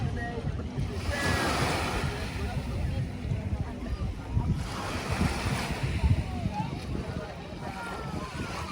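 Surf washes in and breaks in repeated swells at Great Bay Beach, St. Maarten, with wind buffeting the microphone throughout.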